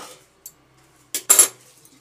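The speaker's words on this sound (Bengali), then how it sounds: "তাহলে ঢাকনাটা খুলে দেখা যাক" Lid lifted off a cooking pot: a couple of faint light taps, then two sharp metallic clinks in close succession, near and brief, against a quiet background.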